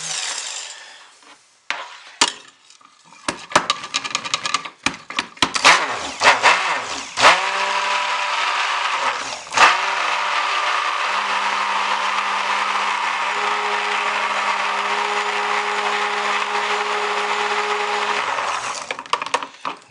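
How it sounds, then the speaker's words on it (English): Stick blender whirring steadily in soap batter made with tamanu oil and a high share of hard oils. It starts with short bursts and clatter, then runs continuously for about ten seconds before stopping. "Get our stick blender going."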